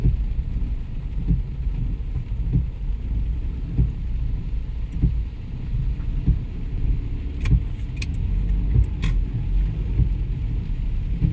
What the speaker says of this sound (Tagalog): Ang traffic ng mga truck ng tubo.